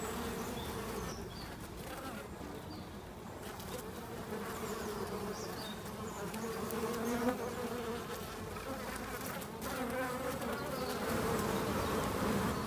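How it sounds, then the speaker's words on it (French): A European hornet buzzes steadily near a beehive during an outdoor colony inspection, with the droning wingbeat loud and continuous throughout, joined by the hum of other insects. "On voit bien que c'est un frelon européen."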